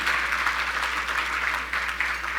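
Applause from a crowd at a county government State of the County address, a dense sustained patter of many hands clapping.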